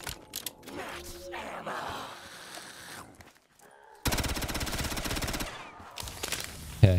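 Gunfire in a zombies-mode video game: rapid automatic bursts rattle loudly in the second half, after mechanical clicks and weapon-handling sounds, with game effects around them.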